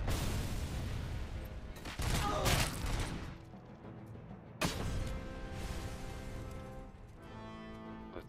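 Gunfire in a gunfight in the video game RoboCop: Rogue City, with loud bursts of rapid shots and heavy impacts, a sharp blast near the middle, then more scattered firing.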